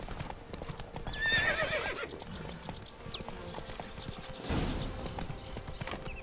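Roach, Geralt's horse in The Witcher 3 set in Toussaint, hooves clip-clopping in a steady walking rhythm, with a whinny and scattered snorts over faint ambient game sounds.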